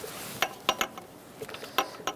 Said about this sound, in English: Now we're going to torque the bottom bolt.